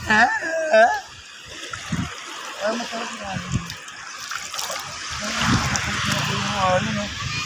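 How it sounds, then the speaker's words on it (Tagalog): Strong sea waves splash and wash nearby in a continuous, rushing churn, with people talking and calling out excitedly over the water. "Uy, ang lakas ng alon"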